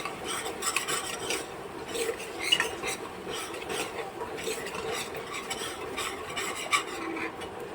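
Dry spices being stirred and roasted in oil in a pan for a spicy black pea curry (kala vatana rasa): a continuous close scraping of the spoon against the pan over a light sizzle, with no voices.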